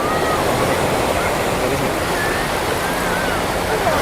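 Big ocean waves breaking on Pandan beach at Carita, Anyer, produce a steady, continuous roar of surf that stays loud and even throughout, with no clear voices over it.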